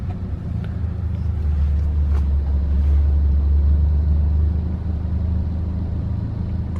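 Road traffic rumbles steadily from inside a taxi, a deep continuous engine and tyre drone with faint passing vehicle sounds and no talking.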